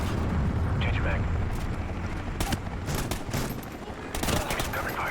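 Gunfire from a Call of Duty Ghosts battle, with dense, continuous bursts of automatic weapons and sharp cracks that keep rolling under a steady wash of combat noise, while voices talk over it.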